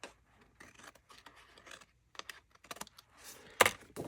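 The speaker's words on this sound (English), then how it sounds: "then we'll just pick this up and give it a good little snip" Scissors snip through paper while scrapbook embellishments are being made, giving a few soft cutting and rustling sounds and then one sharp, close, loud snip near the end.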